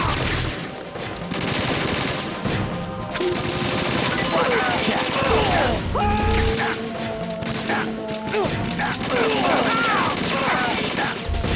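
Rapid machine-gun fire in Metal Gear Solid 2 Substance, sustained bursts and fusillades with a helicopter-like drone beneath, loud and dense throughout, with voices and game sounds mixed in.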